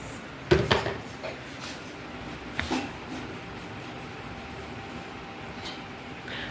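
A steel water storage vessel is handled, giving a sharp metallic clank followed by quick rattling knocks, then a second, softer clatter a couple of seconds later, against a quiet room background.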